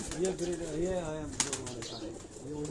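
Breeder pigeon pairs coo on a rooftop in Karachi's Defence area, soft repeated throaty coos with a brief wing flutter midway, heard under a voice speaking nearby.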